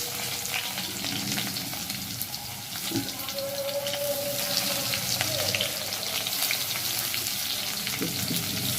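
Chopped onions frying in a pan give a steady, close hiss and crackle that runs unbroken throughout, with faint stirring scrapes and clinks now and then.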